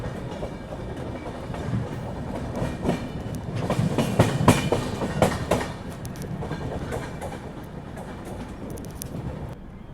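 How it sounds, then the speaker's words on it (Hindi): The Prayagraj Bikaner Express rolls into Jaipur Junction with a steady rumble and clickety-clack of wheels over rail joints. The rattle rises to a loud, busy peak midway, then eases off, heard from on board. "जयपुर जंक्शन रेलवे स्टेशन में फ़िलहाल अपना अराइवल हो रहा है यहाँ पे।"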